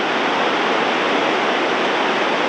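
Rushing Alaknanda and Nandakini rivers at their mountain confluence: a loud, steady, broadband roar of fast-flowing water, close and unbroken for the whole stretch.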